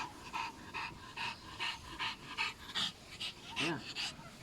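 A dog pants rapidly and rhythmically close by, quick breathy huffs repeating steadily, with a brief vocal sound near the end.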